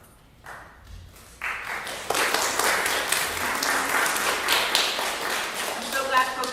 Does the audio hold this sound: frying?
no